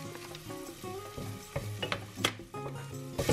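Hot paprika stirred into half-golden fried onions after the heat goes off, a soft fading sizzle under faint scraping and a few louder clinks of the spoon against the pan, with a low background hum and no talking.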